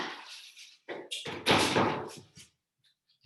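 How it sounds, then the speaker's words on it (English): Indoor door pushed shut with a cluster of knocks and handling noises ending in a solid thud, close and fairly loud, then near silence. "let me shut the door"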